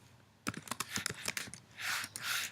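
Keys clatter on a computer keyboard while HTML code is typed, a quick irregular burst of close, crisp clicks followed by a couple of softer, smeared keystrokes.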